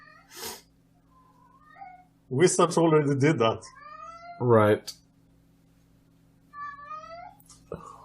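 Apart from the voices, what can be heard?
cat named Ash meowing in the background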